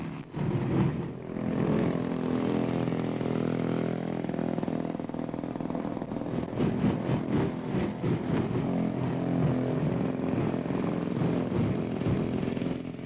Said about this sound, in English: a new scooter is put through its paces